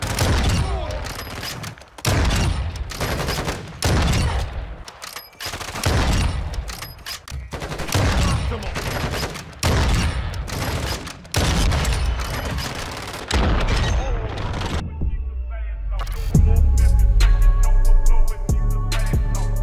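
VICTUS XMR sniper rifle firing in Modern Warfare 2, loud close booming shots repeated in a steady sequence about every second, each with a brief echo, ending in a burst of mechanical and musical game sounds.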